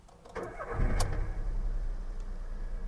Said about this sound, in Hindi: here I am going to start the car and look at the vibration